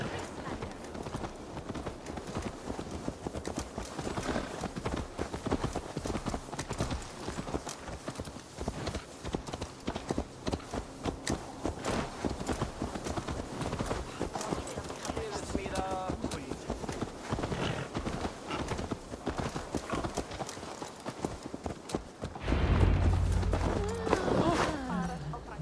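Horse hooves clip-clop steadily in the Viking-era game Assassin's Creed Valhalla as a horse is ridden back, a rhythmic close patter under game dialogue and ambience, with a louder thump near the end.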